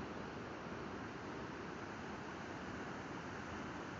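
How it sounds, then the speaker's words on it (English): River rapids with clear green water rushing steadily, a constant broadband roar filling the scene without change or pause, and no one talking. "Nice rapids, beautiful green water."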